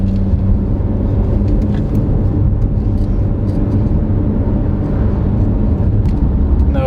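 A 2022 Renault Arkana Hybrid driven briskly through corners, heard from inside as a steady, loud low road and engine rumble with tyre roar, continuous and even with no speech.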